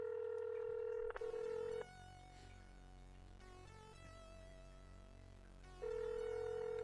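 Touch-tone keypad beeps ring out as a phone number is dialed, with a steady line tone at the start and end and a quick run of dialing tones between, clear and without voices.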